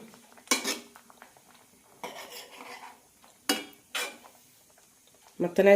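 A spoon stirs pumpkin pachadi in a metal pot up close, a few separate scraping and clinking bursts spaced through a quiet background, ending with a louder clatter.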